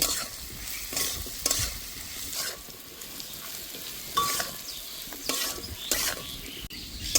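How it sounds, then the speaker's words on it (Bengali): A potato filling with chopped green chili and ginger paste is sautéed in a pan, a low sizzle under repeated scraping strokes of a spatula, close and irregular with no talking. "কুচি করা কাঁচা লঙ্কা, আদা বাটা, সবকিছু দিয়ে এবার ভালো করে কষে নেব।"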